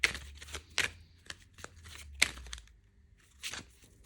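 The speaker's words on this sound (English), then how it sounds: "These cards do not want to be shuffled." Tarot cards being shuffled by hand, giving a series of dry papery riffles and crisp slaps in uneven bursts, close and moderately loud with short pauses between.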